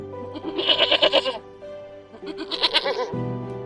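Goats bleat in an animated story where a lion turns men into goats: two loud, quavering bursts of bleating close up, with a short gap between them.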